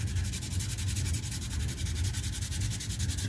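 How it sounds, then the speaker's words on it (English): Sandpaper rubbed against a lightsaber blade in quick, regular back-and-forth strokes, a close, steady rasping scrape with no voices. "It's a good way of removing material without using a really aggressive sandpaper like 80 grit sandpaper."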